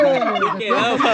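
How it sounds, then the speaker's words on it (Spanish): A turkey gobbles in a rural farmyard in El Salvador, a single rapid warbling gobble close to the listener and fairly loud, with no voices over it. "¡Llegó el pavo!"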